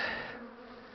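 A steady, close drone of many buzzing bees that fades slightly after the first moment.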